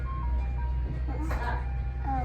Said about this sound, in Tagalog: Oh. It's music inviting all the kids.